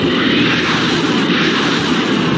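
A-10 Warthog military attack jet roaring steadily and loudly, a dense broadband engine rush with no gaps and no voices over it.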